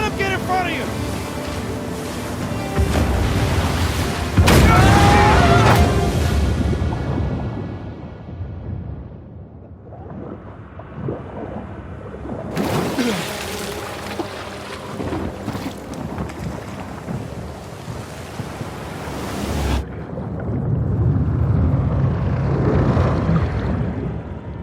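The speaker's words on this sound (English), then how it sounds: "Big boat! Big boat! Damn it, they're dropping mines!" A speedboat in the Uncharted 4 video game races across the sea while mines explode, with rushing wind and spray, roaring bursts, and occasional character voices shouting over the action.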